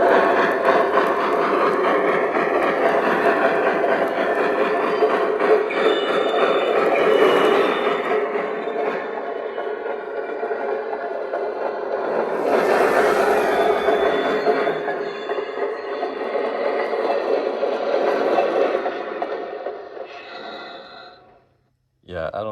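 Rolling rumble of Lionel toy freight cars, including a boxcar with flat-spotted wheels, rattling along a track, continuous and close, swelling and fading twice before stopping abruptly.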